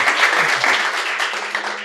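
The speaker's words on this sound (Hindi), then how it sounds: "एक बार आप ताली बजाकर इन भाई का हौसला अफजाई करो" Audience applause at a live Hindi poetry event, a dense continuous patter of clapping held at steady volume for the whole stretch, with no voices over it.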